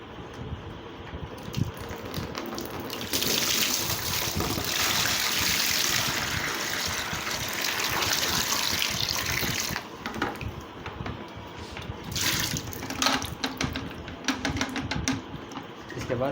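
Water pours and splashes out of a Black+Decker WDBD15 wet-dry vacuum cleaner tub in a steady gush for several seconds, with clattering and handling noises before and after.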